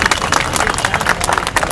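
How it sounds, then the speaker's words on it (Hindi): A crowd of people outside a district collectorate in Rewa applauds in a brief burst of dense, mixed clapping. "मीडिया के साथियों का ताली बजा के स्वागत करिएगा।"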